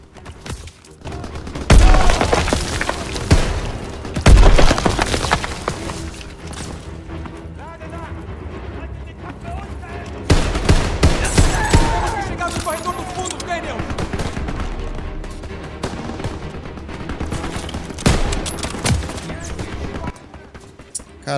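Rapid bursts of gunfire and heavy booms from the World War II shooter Call of Duty WWII ring out repeatedly and loudly, with sharp blasts breaking through dense battle noise and a voice talking in between.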